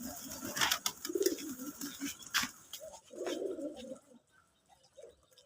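Domestic pigeons on a pigeon farm give several soft, close coos in short bursts, with quiet pauses between them.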